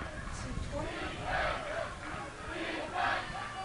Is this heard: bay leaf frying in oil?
no